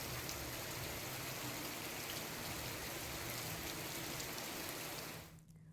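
Heavy monsoon rain pours steadily over waterlogged streets in the Bassi area of Chittorgarh, Rajasthan, a dense, continuous hiss that holds at full strength before cutting off abruptly near the end.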